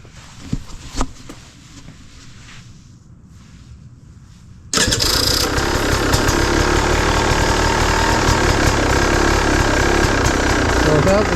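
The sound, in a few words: motorcycle engine started and running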